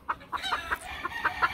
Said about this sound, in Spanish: Miren qué hermosura de gallina.